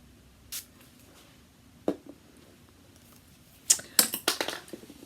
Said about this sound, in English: give it a little bit of help with some spray